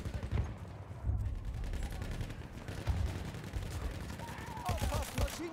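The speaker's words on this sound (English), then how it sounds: "I think that's our teammates shooting at us." Rapid bursts of rifle and machine-gun fire from teammates crackle through a Battlefield 1 match, dense and continuous with some nearer, louder volleys mixed over distant shooting, while a voice speaks now and then.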